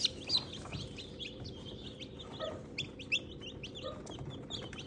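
Newly hatched mixed breed chicks peeping in rapid, high, overlapping chirps, close by and fairly soft, over a low background hum.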